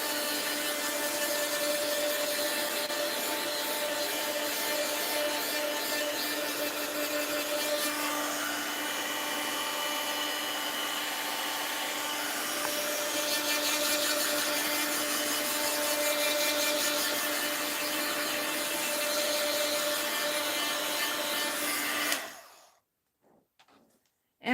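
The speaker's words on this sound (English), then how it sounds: "Sorry for the heat gun noise." A heat gun drying mixed-media art journal pages blows with a steady, loud whirring hiss and a faint electric whine for over twenty seconds, then cuts off abruptly into near silence.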